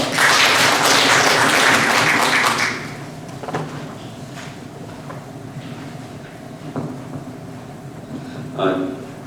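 An audience at a 2021 Chungju intangible heritage academic symposium applauds loudly for a presenter for almost three seconds, then the clapping drops away to a quieter room with scattered small noises.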